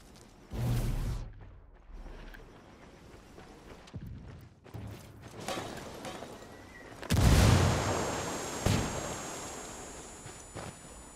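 Gunfire and booms come from the Ghost Recon Wildlands video game. A few sharp shots and a heavier blast stand out from a low, rumbling background at moderate loudness.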